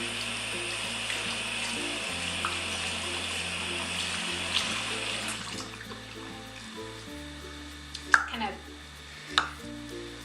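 Tap water runs steadily into a sink while hair is rinsed after lightening, a continuous hiss under a low background hum, with a couple of brief knocks near the end.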